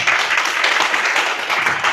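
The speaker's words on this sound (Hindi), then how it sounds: "आप लोग जोरदार ताली स्वागत करें।" Enthusiastic audience clapping welcomes a speaker at a business presentation in a hotel, a steady dense burst of many hands that stays loud and even throughout.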